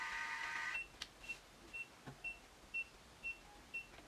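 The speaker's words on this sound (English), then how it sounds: "so it does beep like that" A wireless automatic curling iron beeps: a steady series of about six short, evenly spaced electronic beeps, fairly quiet and close, with no talking.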